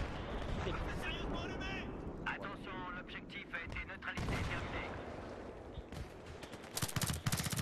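Gunfire in a Battlefield-style battle on the Kharg conquest map, sharp bursts of shots scattered through the clip and a rapid cluster near the end, mixed with vehicle noise while players talk throughout.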